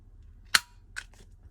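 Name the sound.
corner rounder punch cutting paper corner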